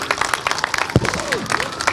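Audience clapping at a community celebration in Vaughan City Hall, scattered hand claps forming a moderate round of applause with a few voices and brief whistles mixed in.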